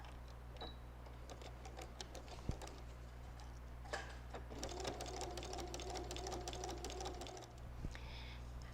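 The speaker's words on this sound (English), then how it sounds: "And I'm going to continue sewing a little bit, and I'm going to do another stitch here on the side" Sewing machine stitching along a quilted fall table runner on the diagonal, a steady close mechanical whir with rapid needle ticking that runs continuously and picks up in the second half, with a few light clicks.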